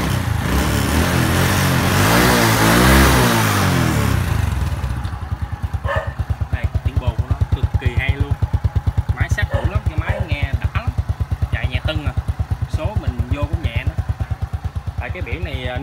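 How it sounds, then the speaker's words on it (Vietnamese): A red motor scooter at a used motorcycle shop is started, first a loud revving burst for a few seconds, then it settles into a steady, rapid idle putter with a person talking nearby. "Em qua nổ máy con quay màu đỏ cho anh em nghe luôn nha."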